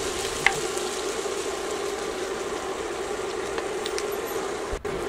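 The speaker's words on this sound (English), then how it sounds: "Next, let's pour in our shrimp." Shrimp fry in an oiled skillet, giving an even, hissing sizzle with occasional light pops and one brief clatter near the end, low in level and uninterrupted by speech.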